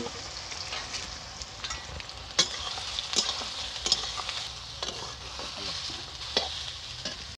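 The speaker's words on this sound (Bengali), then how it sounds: "মেখে রাখা সোয়াবিনগুলো ভেজে নিচ্ছি।" Soybean chunks marinated with flour and soy sauce fry in white oil for soya chilli, giving a continuous crackling sizzle broken by several sharp clacks as they are stirred in the pan.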